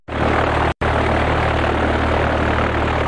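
A propeller airplane drones steadily in flight over South Africa, a loud continuous engine hum with a low, even rumble that holds throughout, broken only by one brief cut.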